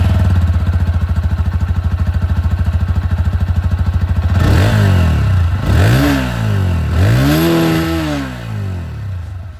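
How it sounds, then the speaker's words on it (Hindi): A TVS Apache 160 2V motorcycle engine idles with a steady, fast thumping beat, then revs up and drops back through three loud throttle blips, close by. "अब मैं आप लोगों को यहाँ पर अपाचे की जो आवाज़ है वो भी सुना देता हूँ"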